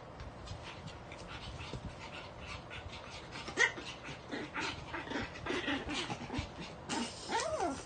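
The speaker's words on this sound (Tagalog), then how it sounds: "Ang nakabait mong aso ka" A toy poodle whimpers and whines softly in short, uneven bursts, with a brief sharper yelp partway through and some panting-like breaths.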